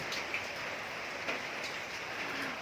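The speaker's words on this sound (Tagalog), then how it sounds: "Walang katapusang ulan." Rain falling steadily on a gloomy day, a dense even hiss of drops on surfaces with a few slightly louder patters, nearby and continuous.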